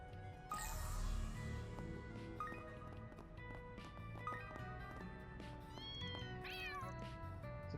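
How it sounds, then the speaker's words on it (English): A cat in the Trails Through Daybreak II video game lets out a couple of short, high meows near the end, heard over steady background game music. "It's a cat."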